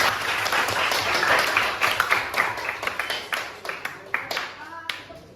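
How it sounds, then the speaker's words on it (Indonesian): Classroom applause for a student group after a school presentation, a burst of clapping from a small group of people that thins into scattered individual claps before stopping, with faint talk underneath. "berikan tepuk tangan untuk kelompok Krishna"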